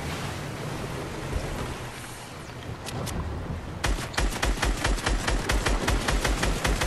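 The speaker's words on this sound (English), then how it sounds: "I hear gunfire." Gunfire in the video game Fortnite: after a stretch of surf-like noise, rapid bursts of sharp shots crackle in quick succession, fairly loud and repeated in a tight rhythm.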